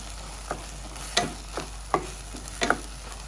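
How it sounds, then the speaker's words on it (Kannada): Tomato fries in oil with ginger-garlic paste for a pea tomato bath, a low steady sizzle broken by a few distinct scraping stir strokes from a spoon in the pan. "ಟೊಮೊಟೊ ಒಂದು ಅರ್ಧ ಭಾಗದಷ್ಟು ಎಣ್ಣೆಯಲ್ಲಿ ಫ್ರೈ ಆಗಿದೆ."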